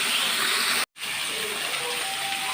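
Chapila fish frying in oil, a steady broadband sizzle and hiss that cuts out briefly for a moment before resuming at the same close, even level.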